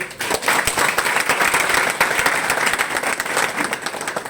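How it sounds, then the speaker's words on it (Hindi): An audience at a network marketing business seminar bursts into loud, vigorous applause for a business coach, a thick, sustained roar of clapping that stays strong from start to finish. "हमारे बिजनेस कोच मिस्टर वीरेंद्र सुमन सर, एक दमदार ताली बजाइए"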